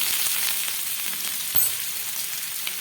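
Chopped garlic and ginger fry in a pan, a steady, even sizzle with a faint stir or scrape partway through, no voices.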